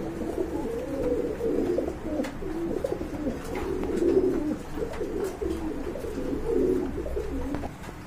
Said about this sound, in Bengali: বন্ধুরা এক জোড়া কাগজি কবুতর দেখতে পাচ্ছেন